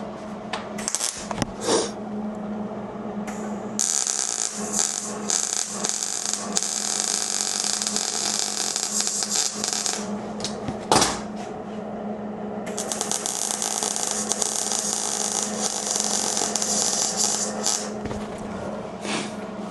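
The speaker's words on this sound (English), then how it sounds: "All right, let's weld." Parts of a 1965 VW Safari are being welded, making a close, harsh crackling buzz in two long stretches broken by short pauses, with metallic clicks and a low hum underneath.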